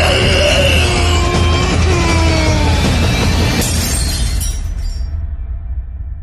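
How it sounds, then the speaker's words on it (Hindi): Mirror glass smashed by an angry blow bursts into a loud crash at the start, with scattered shards tinkling and fading over several seconds, accompanied by a shout and dramatic background sound. "कबीर ने गुस्से में चिल्लाकर शीशे पर इतनी जोर से मारा कि शीशा वहीं टूट गया।"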